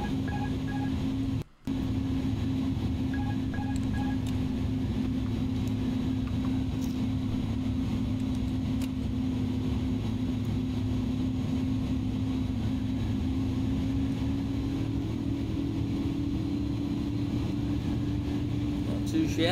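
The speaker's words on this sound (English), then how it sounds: "First landing in the Airbus A310." Airbus A310 airliner landing at Gatwick, heard as a steady, loud cabin engine drone with a low hum and sustained tonal whine, rising slightly near the end, with one brief dropout.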